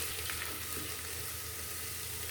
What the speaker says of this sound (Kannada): 1 ಟೇಬಲ್ ಸ್ಪೂನ್ ಶುಂಠಿ. ಸ್ವಲ್ಪ ಎಣ್ಣೆಯಲ್ಲಿ ಚೆನ್ನಾಗಿ ಹುರ್ಕೋಬೇಕು.